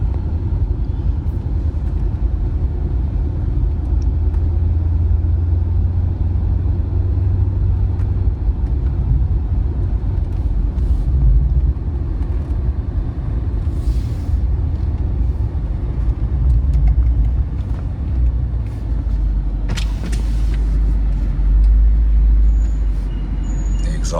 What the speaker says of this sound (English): Exhaust is so quiet.